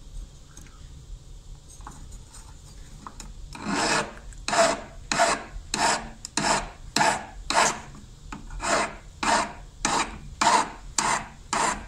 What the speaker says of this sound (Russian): Их нужно снимать именно напильником